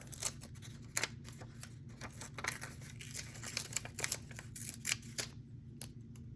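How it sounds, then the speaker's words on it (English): An old Christmas card being torn while recycling it into a new card, a quiet series of crisp ripping and snipping sounds over a low, steady background hum. "Get that glued down, and then I'm gonna tear it off."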